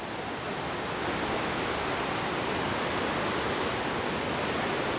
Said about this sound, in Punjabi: ਪਾਣੀ ਦੀ ਆਵਾਜ਼ ਹੀ ਬਹੁਤ ਸੋਹਣੀ ਲੱਗਦੀ ਆ